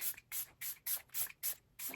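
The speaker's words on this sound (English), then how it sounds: "One more time with some setting spray." Makeup setting spray hisses from a pump bottle in seven quick, even puffs, each a short airy burst, close and fairly soft.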